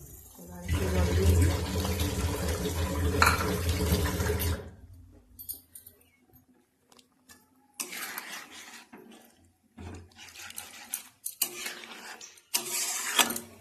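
Water pours into a pan of soya chilli gravy in a home kitchen, a loud steady rush for about four seconds, followed by quieter clinks, stirring and intermittent bursts of sizzling or running water.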